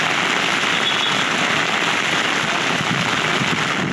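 Water gushes from a storm drain beside a metro construction site during a heavy downpour, a loud, constant hissing rush of water and rain with no pauses and no voices.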